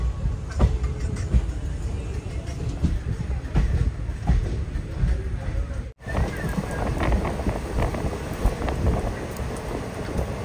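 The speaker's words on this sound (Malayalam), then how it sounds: "അങ്കമാലി റെയിൽവേ സ്റ്റേഷനിലേക്ക് ഇതാ ട്രെയിൻ എത്തിക്കൊണ്ടിരിക്കുകയാണ്." A passenger train from Guruvayur to Ernakulam rolls toward Angamaly station, heard from inside a general-class coach as a loud, steady rumble with rhythmic rail clatter and wind noise, briefly cut once midway before resuming.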